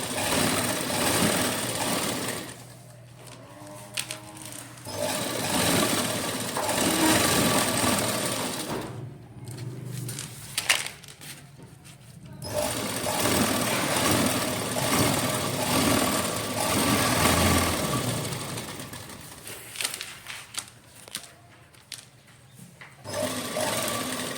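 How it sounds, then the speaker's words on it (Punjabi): Sewing machine stitching a wide beaded lace border onto a dupatta, running in long steady bursts of rapid mechanical whirring separated by brief pauses, close and loud, with no talking. "ਸਾਰੀ ਸਲਾਈ ਆਪਾਂ ਜ਼ਮੀਨ ਤੇ ਲਾ ਲੈਣੀ"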